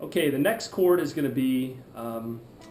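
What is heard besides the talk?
No distinct noise like a dog, phone or traffic.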